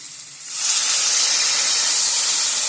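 A sudden loud hiss bursts up as hot water hits a sizzling pan of spices, onion-coconut paste and Kadaknath black chicken, then holds as a strong, steady rush of steam.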